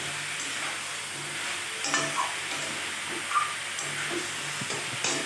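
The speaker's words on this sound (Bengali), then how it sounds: "সবজিগুলো দেখো একটুখানি ভাজা ভাজা হয়েছে আমার।" Vegetables frying in a pan for chicken stew give a steady, moderate sizzling hiss, with a few soft clinks and stirring scrapes scattered throughout.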